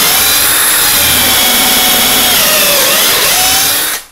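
A power drill boring pocket holes in wood for a garden tool tote: a loud, steady high whine held for about four seconds, then cutting off abruptly.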